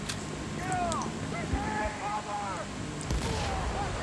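Distant booming shots and artillery-like blasts echo through a Battlefield 1943 match on Iwo Jima, with engine rumble beneath and several sharp cracks.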